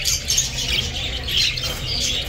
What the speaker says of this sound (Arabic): وجبة مع طيور مغردة يم أخونا الطيب حسن النجفي